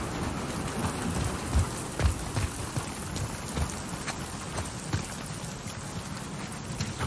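Steady rainfall in The Last of Us Part II, a dense continuous patter of drops on surfaces with occasional heavier splashes and low rumbles, filling the scene evenly with no voices.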